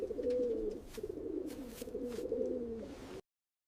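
Pigeons or doves coo in a close, steady run of low, throaty rolling calls, several overlapping phrases before an abrupt cut to silence.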